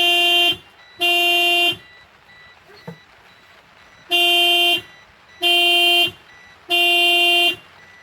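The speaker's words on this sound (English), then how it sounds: "he says he can't hear the horn beeping" A car horn beeps in five long steady blasts with short gaps, loud and close, sounded repeatedly from a vehicle in the New Zealand bush while faint background noise fills the pauses.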